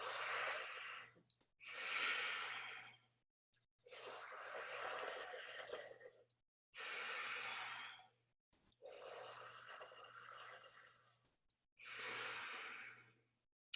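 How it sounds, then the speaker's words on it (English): Tako breathing, drawn in through a curled tongue like a straw and let out through the nose: six long, airy breaths, each a couple of seconds, separated by short pauses, close and steady with no talking. "the idea is curling the tongue and breathing in through the tongue like a straw and"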